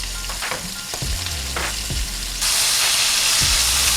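Steak sears in butter in a cast iron skillet, giving a constant close hiss and sizzle that grows louder and brighter partway through, with a few soft knocks and scrapes from flipping.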